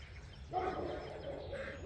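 Geese calling outdoors on a homestead, a burst of honking and quacking cries starting midway and continuing over a steady background murmur, moderately close.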